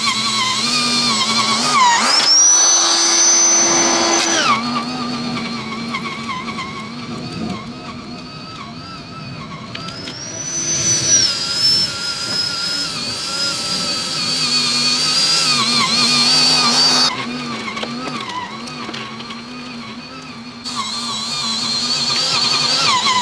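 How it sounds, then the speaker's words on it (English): WEN lawn dethatcher with a scarifier cartridge running across a lawn: a loud, close motor whine that rises and falls in pitch as it works, with some rough, uneven stretches and no talking. "But with the Scarifier cartridge, it actually works pretty well at pulling you along."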